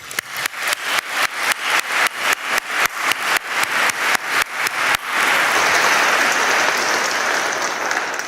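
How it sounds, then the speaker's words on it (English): Graduates at the CIPP graduation ceremony applaud: a run of sharp, evenly spaced loud claps from one nearby person gives way after about five seconds to dense, sustained crowd clapping. "Give yourselves a big round of applause."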